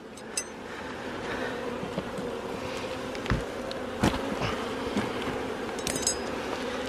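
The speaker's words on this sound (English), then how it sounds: "There's not that many bees though." Bees buzz steadily around an open beehive box, a continuous close hum broken by a few faint knocks and clicks, with no talking.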